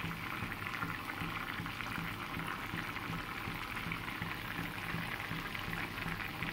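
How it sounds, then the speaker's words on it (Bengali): A pot of vegetable and poppy seed paste curry (posto) with pointed gourd, ridge gourd or eggplant boils on full flame, giving a steady, close bubbling and hissing simmer that holds evenly throughout with no talk. "1 মিনিট এরকম ফুল ফ্লেমে ফোটাতে হবে, তাহলে এই জলটা একদম পুরো টেনে যাবে।"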